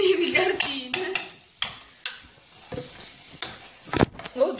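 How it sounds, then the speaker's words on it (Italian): Soffritto with carrots cooking in a pan, with an underlying sizzle broken by repeated scraping and clanking stirs of a utensil against the pan, close and fairly loud, irregular and uneven in rhythm. "Abbiamo fatto soffriggere il Soffritto di carchine... cartine"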